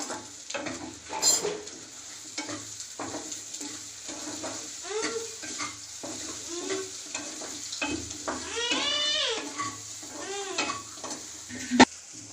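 Egg noodles being stirred and tossed in a hot pan, with repeated scraping strokes over a steady sizzle at close range, plus a brief bleating animal sound in the background.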